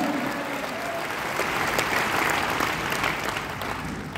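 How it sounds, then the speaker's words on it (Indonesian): A church congregation at an evening revival service during a national church congress in Batu, Indonesia, bursts into sustained applause and cheering. It swells to a loud, dense peak midway and then eases slightly, with no clear speech over it. "If you believe it, give Jesus a mighty shout."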